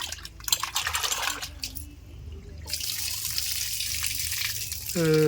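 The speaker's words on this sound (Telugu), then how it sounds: "ఇంకోసారి కూడా కడిగేసుకుందాం." Soaked dried fish being washed in water for a dry fish curry, faint splashing and a running tap close by, ending with a louder gush of water, while a voice talks at times.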